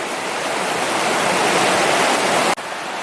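Fast, high-running stream water rushes across a trail crossing on the Eagle Rock Loop, a steady close broadband roar with no talk, cutting briefly near the end before continuing.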